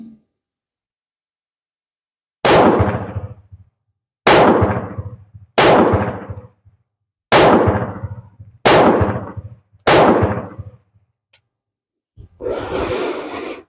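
Six sharp shots ring out from a surplus .32 caliber pistol at irregular intervals, each a loud crack with a short echoing tail. A brief muffled rustle follows near the end.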